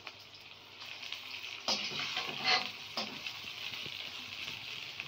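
Sliced okra fries in a pan, with a steady hiss of oil broken by a few louder sizzling bursts as it is stirred, close and fairly quiet, with no talking.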